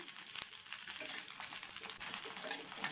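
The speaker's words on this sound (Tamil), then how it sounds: "இதில் கட் பண்ணி வச்ச கத்திரிக்காயை சேர்த்து வதக்கிக்கலாம்" Cut eggplant sautéing in oil for an eggplant kurma, a faint, even hiss of frying with light stirring scrapes scattered throughout, no talking.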